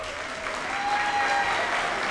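An audience claps steadily at a high school graduation ceremony, a dense, sustained round of applause filling the room without pause.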